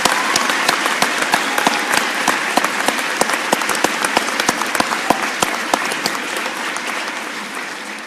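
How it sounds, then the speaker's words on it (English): An audience at a Coast Guard recruit event claps, thick continuous applause with sharp individual claps standing out, sustained for about eight seconds before easing slightly at the end. "So if you can join me in a round of applause for those folks."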